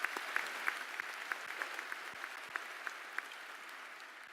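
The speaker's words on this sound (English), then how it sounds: "please give yourself a big round of applause" Audience at a high school graduation commencement ceremony applauds in a steady, moderately distant wash of clapping, with a few sharper nearby claps standing out over the crowd.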